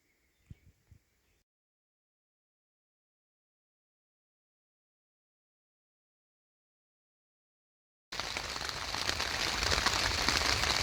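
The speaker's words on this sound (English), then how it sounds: "And as expected, it is raining." Rain falls in a forest at a June campsite, a steady hiss of drops on leaves and surfaces that starts abruptly after a silent gap and continues evenly, preceded by a few faint knocks.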